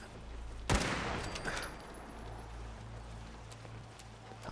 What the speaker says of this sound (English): I'm hearing some gunshots.